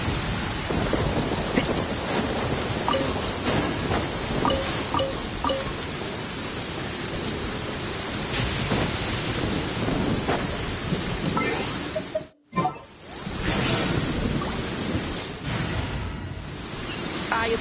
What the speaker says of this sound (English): I'm used to the rain, but you should probably use an umbrella.